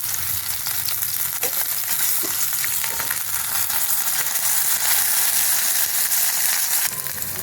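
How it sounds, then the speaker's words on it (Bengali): Turmeric-coated pomfret pieces turned over in a wok of hot oil: a continuous, loud, close-up sizzle with occasional scraping clicks from the flipping, heard alone without voices. "মাছগুলো এখন আমি উল্টে দিচ্ছি।"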